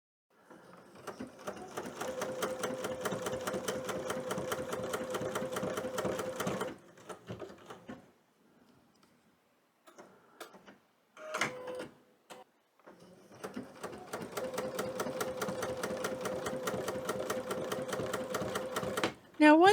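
A sewing machine stitches wool applique in two long, steady rapid runs, with a quiet pause between them filled by short bursts of stitching and handling noise.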